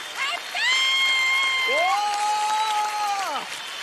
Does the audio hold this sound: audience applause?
yes